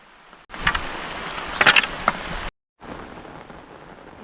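Heavy rain pours beside a flooded river, a dense steady hiss that swells loudly for two seconds with a few sharp spatters, breaks off briefly, then returns softer and even.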